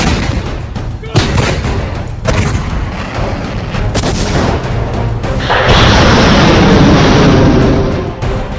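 Continuous shelling in Ukraine brings repeated heavy booms and thuds, some close and loud, then a sustained roaring blast wash, with a voice partly heard over the din.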